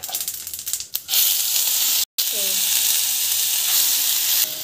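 A spice mix of mustard seeds, cumin, urad dal and chana dal purée sautéing in hot oil, a close, loud steady sizzle with a brief scrape and a short dropout midway.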